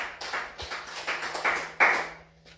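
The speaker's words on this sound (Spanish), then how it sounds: "Dele fuerte aplauso al Señor." A church congregation applauding during a sermon: scattered, uneven claps at moderate distance, rising in bursts and fading toward the end.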